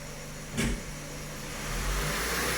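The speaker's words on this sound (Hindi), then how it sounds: "इसको थोड़ा रेस दे और इसको तू 1500 RPM पे लाके रोक दे" A vehicle engine gets a short burst of throttle, then climbs and holds at a steady raised idle of about 1500 RPM during load testing for an ECM fault. The sound is close and continuous, with no talking.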